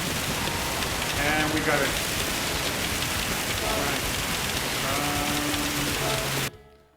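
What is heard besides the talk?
rain during a race in the video game Gran Turismo 7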